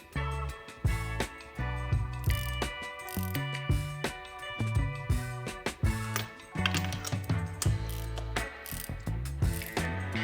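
A hand ratchet clicks in quick, uneven bursts while an NGK spark plug is tightened in a Honda Civic EG engine, the sharp pawl ticks close and loud with brief pauses between strokes.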